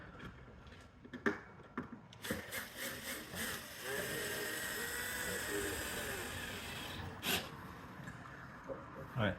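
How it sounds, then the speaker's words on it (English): A screw being driven into the pulley hole of a wooden sash window, heard as a sustained grinding, rasping drive with a few sharp knocks before it, close and fairly loud, no talking. "Okay, put that screw in"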